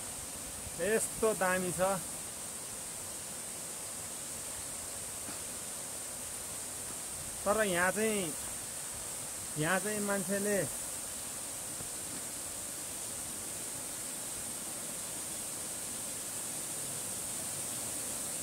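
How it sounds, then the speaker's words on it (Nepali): A big waterfall near Dhading, Nepal gives a steady, even rush of falling water that never lets up, while someone speaks briefly over it a few times. "निकै ठुलो छ राम्रो झरना छ"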